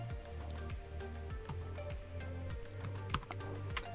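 Computer keyboard typing a search, a quick run of soft, close key clicks in an uneven rhythm that continues throughout, fairly quiet, with no talk.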